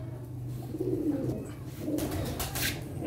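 A large male pigeon coos in low, throaty, repeated phrases over a steady background hum.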